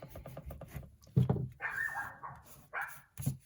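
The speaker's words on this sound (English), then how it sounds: "She's barking." A dog barks repeatedly in short, sharp bursts, sounding somewhat distant, with brief pauses between barks.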